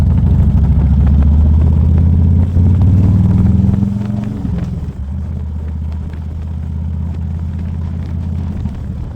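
A deep, loping fuel-injected 2007 Harley-Davidson Electra Glide Standard engine rumbles loudly, its pitch dropping as it slows and downshifts with a transmission clink, then settling into a steady throb.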